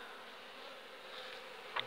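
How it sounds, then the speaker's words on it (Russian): Honeybees hum around a freshly set-up wooden beehive body filled with frames of drawn comb: a faint, steady buzzing drone, with one bee flying close past near the end. "Вот активно трудится пчелка."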